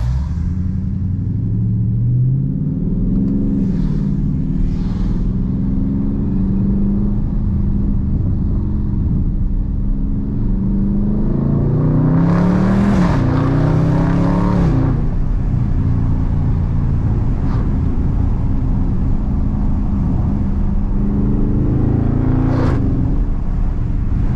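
A Dodge Charger Daytona 392 engine drones steadily from inside the car, its pitch shifting as the transmission downshifts by itself, with brief rises in revs and a constant road rumble underneath.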